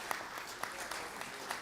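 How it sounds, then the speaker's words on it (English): A club gathering at a performing-arts series offers a brief round of clapping for an award recipient. It is faint and scattered, with a few sharper claps standing out over the room's low murmur. "let's give her a round of applause"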